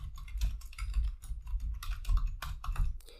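Someone types a command on a computer keyboard, producing a quick, steady run of close, crisp key clicks with no talking.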